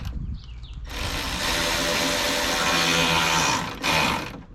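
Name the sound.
ratchet tightening a bolt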